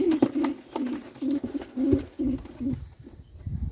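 Pigeons, sport and show breeds, coo in a steady series of low, soft, throaty calls, fairly close, with some faint background rustling toward the end.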